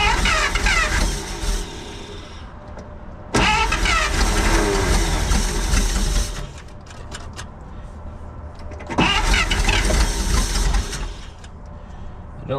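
A 1948 Pontiac straight-eight engine cranks and catches in repeated attempts, each loud rough run lasting a few seconds before dropping back to a lower idle-like rumble, recorded close up.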